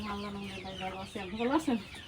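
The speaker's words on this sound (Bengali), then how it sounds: "এই যে আপনার মুরগিগুলো যে দেখতেছি" Desi and tiger breed chickens on a farm cluck nearby, with a drawn-out call followed by a few rising, choppy clucks, heard clearly with no talk over them.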